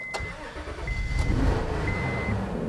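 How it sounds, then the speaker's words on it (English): A Honda Odyssey minivan with a reported loss of power and heavy shaking revs its engine as the accelerator pedal is pressed, a steady mid-pitched engine drone that swells slightly in the middle, close and continuous. "So I'm stepping on the accelerator pedal right there."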